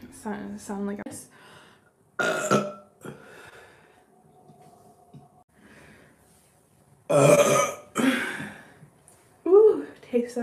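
A woman lets out a few loud, close burps after drinking tequila, with breathy gasps and some talking in between.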